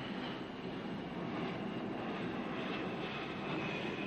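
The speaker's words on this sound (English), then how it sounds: "Marianne casting an eye up to the aeroplane overhead" An aeroplane passes overhead during a 1971 US Open tennis match, a faint, steady, distant broadband roar with no other sounds over it.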